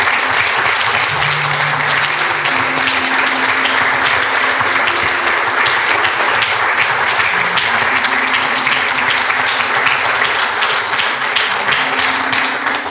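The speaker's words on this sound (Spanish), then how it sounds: "Denle un aplauso para el Señor" Loud, dense applause from a church gathering fills the space for well over ten seconds, a sustained wash of clapping from many hands that never lets up, with faint voices buried beneath it.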